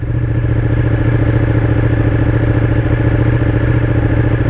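A red 2017 Ducati 959 sport motorcycle engine running while ridden, a loud, steady, close mechanical drone with a fast even pulse and no change in pitch throughout.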